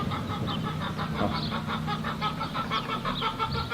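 Steady clucking from several chickens fills a yard during minitractor gearbox repair, with overlapping cackles and a constant low background hum.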